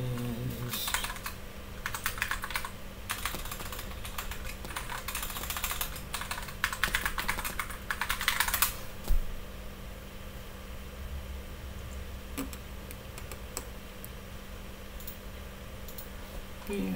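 Keystrokes on a computer keyboard as a password is entered, bursts of quick clicking through the first half followed by quieter room tone with occasional taps.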